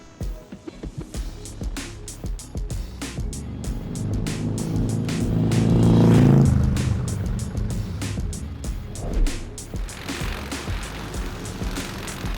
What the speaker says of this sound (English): we fired up the bikes and hit the road